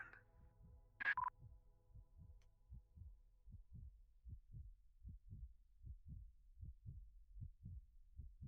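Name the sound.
heartbeat sound in a video game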